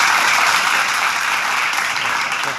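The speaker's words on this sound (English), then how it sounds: "Give a round of applause, guys, okay?" An audience claps in a loud, dense round of applause at an event, sustained and even across the whole stretch.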